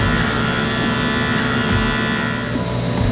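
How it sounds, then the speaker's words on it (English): An Andis Super Ion rotary motor hair clipper cuts through damp hair with a steady, close, loud electric buzz that holds without pause. "the Andis Super Ion, being a rotary motor, cuts through this damp hair with ease."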